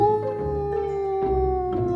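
A pack of wolves howls near a farmstead at night, heard as a sustained, steady tonal howl with a second voice layered beneath, loud and continuous across the whole span with no talk.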